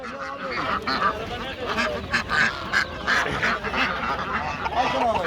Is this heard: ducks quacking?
yes